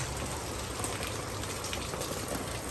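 Heavy rain pouring steadily on a work site in the Philippines, a dense, uniform roar of drops on surfaces throughout with no pauses.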